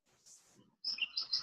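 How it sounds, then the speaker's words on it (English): Small birds chirp faintly in the background of an online meeting, a few quick high tweets clustered near the end after a quiet, low murmur. "I think partly it's the birds"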